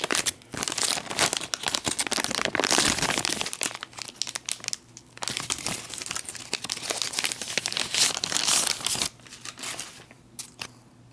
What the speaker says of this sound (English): They do give you a second set of tear notches on these so you can remove it a little bit easier.